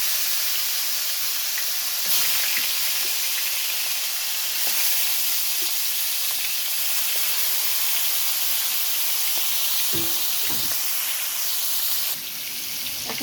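Ginger garlic paste and spices frying in hot oil give off a steady, loud sizzle that runs unbroken the whole way through, with a few brief stirring knocks near the end.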